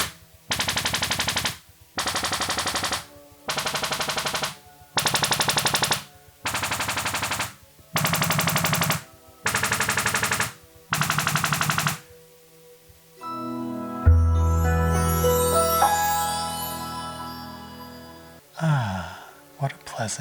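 A Sony AZ3000ES AV receiver runs its speaker calibration, firing eight evenly spaced loud noise bursts, then a sweeping, descending chime-like melody of test tones ending in a few soft clicks.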